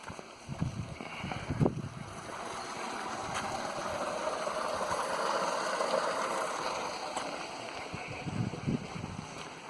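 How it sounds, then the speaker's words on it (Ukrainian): Water runs from a pipe in a city park, a steady rushing trickle with a soft broadband wash that swells gently and holds throughout, with a few faint knocks and outdoor noise around it. "Труба тече."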